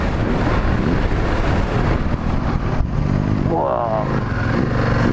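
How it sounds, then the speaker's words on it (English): An EBR 1190RX sport motorcycle slowing under a hard squeeze of the front brake, with steady loud engine and wind roar throughout and a rider's voice partly heard beneath it. "Let's give it a reasonable handful on the front brake."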